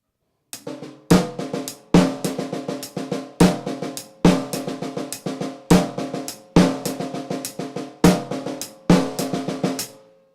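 A drum pattern repeats evenly against right-hand quarter notes, crisp struck hits about once per second with ringing decay, played solo without any talking.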